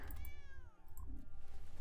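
A single drawn-out meow, most likely a human voice imitating a cat, sounds close and loud over a low background hum during a Magic: The Gathering Arena card game.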